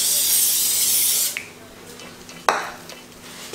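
Cooking spray hisses onto plastic wrap in a home kitchen while making pizza dough: one loud, continuous spray of a bit over a second, then quiet with faint handling clicks and a short sharp knock.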